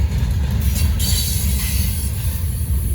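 Norfolk Southern freight train NS 154, led by two locomotives on the Charlotte District, rumbles past with high wheel squeals and a few clanks above a steady low roar.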